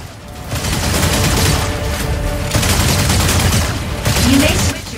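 Energy autocannon fire in the mech combat game Mecha Break, a dense, loud barrage of rapid booming shots with rumbling impacts throughout, continuous and close.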